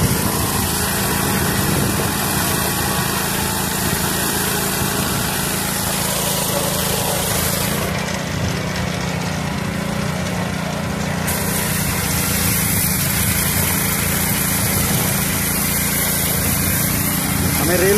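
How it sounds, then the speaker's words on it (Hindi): A drill machine bores bolt holes in a steel rail at a railway fish-plate joint, giving a loud, continuous motor whine and grinding that runs the whole time with only a brief change in the middle. "ये हमारा ड्रिल मशीन है"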